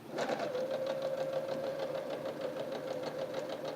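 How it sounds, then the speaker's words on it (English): A sewing machine stitches at a steady, rapid rhythm, a close mechanical whirring hum with regular needle ticks, running alone and evenly throughout. "Remember to always hold your threads to the back when you begin sewing."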